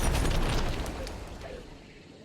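A lit dynamite stick explodes in a loud, close burst of blast noise that rumbles and gradually fades over about two seconds.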